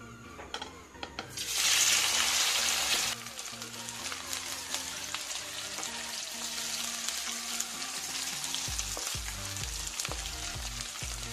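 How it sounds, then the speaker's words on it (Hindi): Cut potatoes drop into a tablespoon of hot oil in a pan and set off a loud hiss that settles into a steady close sizzle, followed by scraping stirs near the end. "यहाँ पर 1 बड़ा चम्मच तेल को गरम कर लिए हैं। अब इसमें आलू डालेंगे।"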